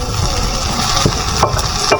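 Steady sizzling of food frying in a pan, a constant crackling hiss with a few light clinks of stirring, no voices.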